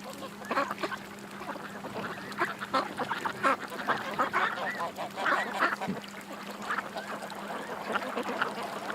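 Ducks gathered at a feeding spot for homeless ducks, quacking in a steady overlapping chorus of short calls at middle distance, with a faint steady hum beneath.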